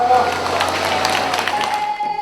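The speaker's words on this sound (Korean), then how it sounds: "박수로 모셔보겠습니다." Clapping from an audience at a Korean traditional music performance fills the moment, steady and moderately loud, with a tonal sound running underneath.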